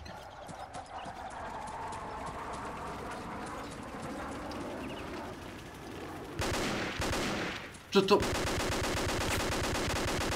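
Rapid bursts of gunfire crackle in a busy Vietcong 2 game soundscape, growing denser and louder toward the end, with a brief spoken question.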